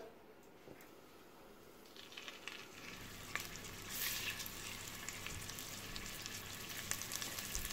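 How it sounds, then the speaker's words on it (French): Lamb chops sear over high heat in hot olive oil inside a casserole, starting as a faint hiss and swelling into a loud, dense crackling sizzle that carries on to the end. "Alors là, à feu vif, je vais dorer mes côtelettes."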